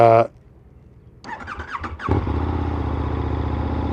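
A 2024 KTM 1390 Super Duke R Evo motorcycle engine, a short burst, a pause, then a few rising revs before settling into a loud steady running drone while riding.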